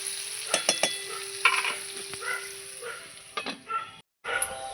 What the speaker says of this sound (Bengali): এই যে একটু লবণ, একটু হলুদ দিয়ে ভালো করে ভেজে নেব। আমি আলুটাকে কিন্তু ঢেকে ঢেকে ভেজে নেব।